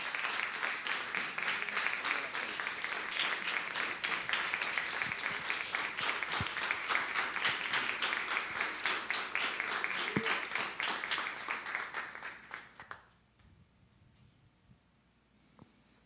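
A church congregation claps steadily in a sustained wave of applause for about twelve seconds, fairly distant and even, then fades away into near quiet.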